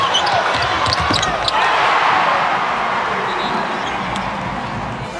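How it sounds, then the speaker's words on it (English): A fired-up crowd roars throughout a Notre Dame versus UConn women's college basketball game, a dense, loud, sustained wall of cheering with faint sneaker and ball sounds beneath it. "This crowd is fired up."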